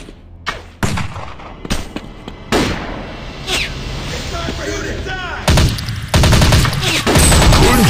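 Gunfire in a mobile shooting video game, loud separate shots early followed by sustained bursts and booming blasts, growing denser toward the end.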